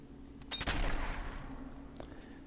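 Sniper rifle fire in the Sniper Elite 4 video game: a single sharp shot cracks and rolls into a long, fading echo, with a faint second report near the end.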